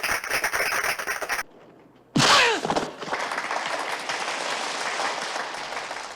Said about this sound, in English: complete with clapping monks and movie-sampled sounds